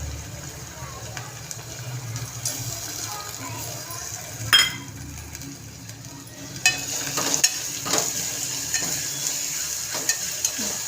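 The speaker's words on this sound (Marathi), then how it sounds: "त्यालाही थोडंसं असं आपण आता परतून घेऊया त्या डाळीला।" Soaked mung dal is sautéed in oil in a pan for fenugreek (methi) bhaji, with a soft sizzle, scraping stirs and a few sharp clinks of a utensil against the pan.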